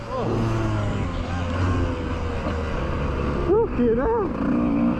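A 33-year-old Honda CR125 two-stroke motocross bike racing up a hill, its engine droning and rising in pitch, with other bikes nearby and an excited commentator talking over it.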